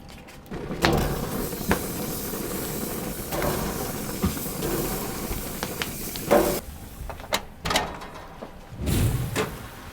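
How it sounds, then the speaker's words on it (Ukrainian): Finger-thick apple slices laid straight onto the open fire of a grill hiss and sizzle steadily for ten seconds, with scattered pops and crackles and a few louder bursts near the end, no voices. "Вмикаємо гриль та викладаємо яблука просто на вогонь."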